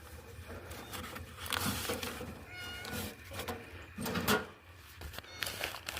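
A cat meows several times outdoors during a walk to check the mail in rural Alabama, fairly faint with rustling and other background noise around it.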